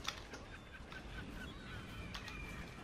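Squawking seagulls in Brütal Legend, a steady stream of scattered honking calls with a few sharper cries standing out, heard over constant rumbling game ambience at moderate level, no voices.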